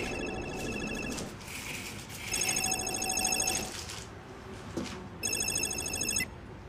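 An outgoing telephone call ringing back, with repeated electronic ring bursts separated by pauses, clear and close over a low background.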